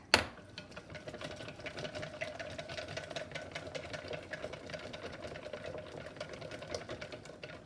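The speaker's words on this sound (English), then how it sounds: "In fact, I think I'll use a whisk." A whisk beats ingredients for a tomato pie in a bowl, making a steady fast rattling whir close by after one sharp knock at the start, with no talking.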